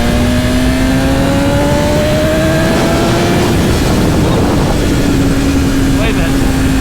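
A 2020 BMW S1000RR with the rev limit removed pulling hard in first gear, its engine note rising steadily in pitch, loud and close with heavy wind rush, then easing off.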